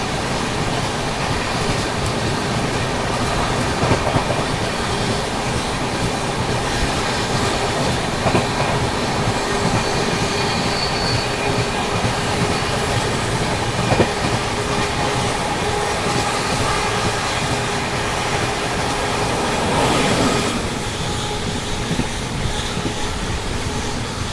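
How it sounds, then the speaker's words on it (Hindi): A train running in parallel overtakes the Sampoorn Kranti Express, heard from aboard a Dhanbad–Jammu Garib Rath special as a loud, continuous rumble with steady clickety-clack of wheels on rails throughout, swelling briefly near the end. "ओवरटेकिंग बिहार की आन बान शान संपूर्ण क्रांति एक्सप्रेस,"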